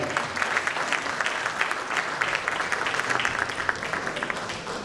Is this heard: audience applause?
yes